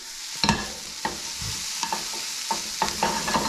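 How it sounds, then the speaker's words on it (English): Cabbage and onion cooking down in a skillet for spaetzle with bacon, a continuous close sizzle broken by sharp clicks and scrapes of stirring. "All right, cabbage and onion cooking down."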